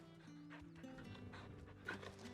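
A pet dog pants steadily close by during a console gaming session, soft rhythmic breaths layered over game music and effects.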